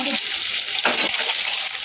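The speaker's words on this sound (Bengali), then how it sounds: "কেটে রাখা গাঠি কচুগুলো আর আলুগুলো" Cut taro and potatoes frying in hot oil in a pan, giving a steady, close, bright sizzle with a brief louder burst partway through.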